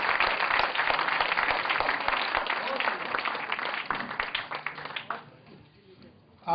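Crowd applause erupts at a Hindi comic poetry gathering as a poet is welcomed on stage, loud sustained clapping for about five seconds that then fades away into a quiet room.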